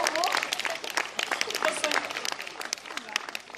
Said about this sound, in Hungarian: nagy tapsolt a táncosunknak!